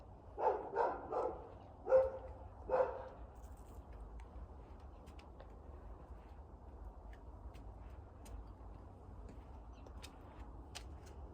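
A dog barks four or five times in quick succession in a small spring garden, moderately near and fairly loud, then falls silent, leaving faint outdoor background with occasional light ticks.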